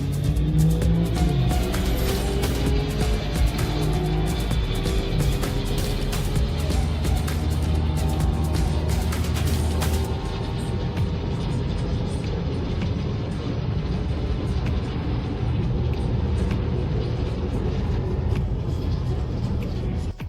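A BMW F30 328 with Stage 2 tune, intercooler, straight pipe and intake races a rear-wheel-drive Stage 1 BMW F30, engines droning loudly and steadily under acceleration, with a shift-like change partway through before the roar continues.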